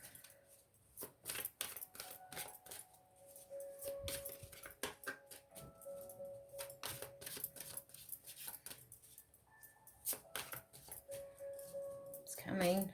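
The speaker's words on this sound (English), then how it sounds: "they're just such big cards to shuffle" Oversized cards being shuffled by hand, a run of quick crisp riffling and snapping bursts with soft clicks, close up, while a voice murmurs in the background.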